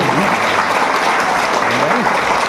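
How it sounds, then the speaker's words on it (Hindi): A crowd at an achievers' celebration event applauds steadily for a guru, dense clapping running throughout, with a speaker's voice rising briefly over it. "तो एक बार जोरदार तालियां गुरु जी के लिए।"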